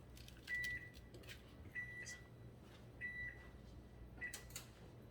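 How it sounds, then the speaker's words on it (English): A kitchen oven being started up, with four short electronic beeps spaced about a second apart over a quiet background hum, each accompanied by a faint click. "Starting up the oven."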